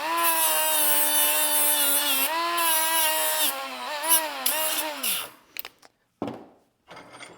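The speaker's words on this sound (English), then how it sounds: "I'm going to grind that too." A power grinder works the notched end of a 4130 chromoly tube in a home garage, a loud steady high-pitched whine with slight pitch dips for about five seconds, then cutting off into a few short bursts.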